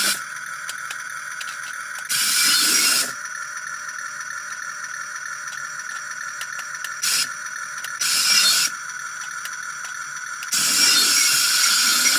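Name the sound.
arm mechanism of 1/64 scale die-cast RC excavator moving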